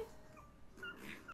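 A dog whimpering in a played video clip, a few faint, high, thin whines and yips spread over a second or so, quiet and somewhat distant.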